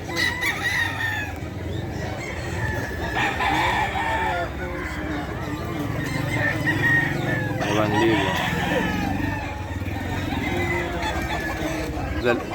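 Roosters at the Bocaue pet market crow and cluck repeatedly amid crowd murmur, with voices talking throughout the busy market background.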